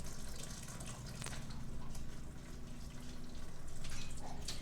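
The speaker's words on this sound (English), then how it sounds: "Now we need a can of artichoke hearts. These are already quartered, and you can get them this way or you can get them whole, up to you. I'm going to drain these." Liquid drains from a can of quartered artichoke hearts, a steady close watery pour and trickle with faint dripping, running continuously without a break and swelling slightly toward the end.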